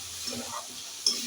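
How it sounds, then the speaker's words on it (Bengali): Spices sauté in a pan with oil for a tamarind fish curry, a low, close sizzle with a light scrape and a small tick of utensil on metal. "এবারে মশলাগুলো কষে নিলাম"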